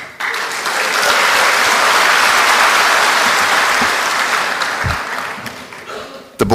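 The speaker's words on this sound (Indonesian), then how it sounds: "tepuk tangannya lebih keras daripada yang lain" Loud, sustained applause from a large audience at a national address at the Indonesian police staff college, swelling quickly, holding steady, then tapering off before a few final loud knocks.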